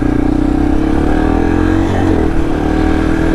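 A Yamaha TTR230 dirt bike engine runs steadily while riding, a loud, close, low mechanical drone with a slight shift in pitch midway.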